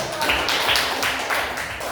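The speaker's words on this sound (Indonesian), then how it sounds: "Beri tepuk tangannya dulu" Classroom applause, a brief burst of many hands clapping and tapping together, close and fairly loud, with voices mixed underneath.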